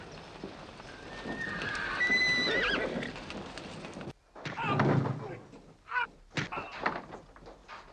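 Horses whinny and their hooves clip-clop as riders move off into a Western town, a loud neigh followed by clattering hoofbeats and thuds, with voices faintly underneath.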